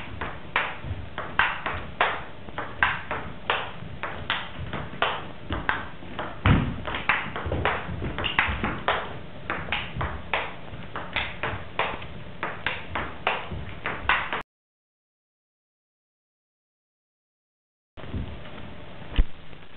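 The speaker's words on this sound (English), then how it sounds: "Notice the power of those flick shots, forehand and backhand." A fast table tennis rally with forehand and backhand flick shots, a long string of rapid light pings and taps, one silent gap, then a few more hits.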